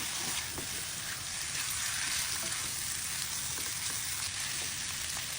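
Sautéed bitter gourd seasoned with fish sauce and pepper being stirred in a hot pan, with a dense continuous sizzle and faint scraping strokes throughout, close and steady.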